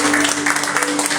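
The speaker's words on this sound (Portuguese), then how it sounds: "Se assente aplaudindo ao Senhor." Church congregation applauding together during a worship service, a continuous, even wash of clapping heard close for about a second.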